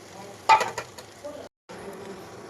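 Onion, tomato and poppy seed paste sizzles and fries in a pan while being stirred, a louder burst of stirring and spattering early on, then a steady low sizzle after a brief gap.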